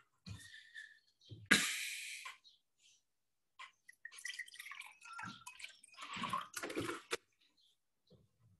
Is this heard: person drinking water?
yes